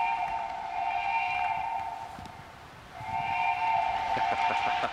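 A ghost train whistle echoes through a Myra Canyon tunnel in two long, sustained blasts with a short dip between them, over a rumbling background.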